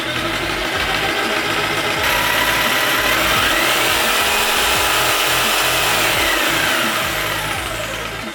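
A jigsaw mounted under a DIY aluminium-frame jigsaw table with a speed controller is given a slow test run, giving a loud, steady motor whir and buzzing rattle that continues unbroken, with no talking.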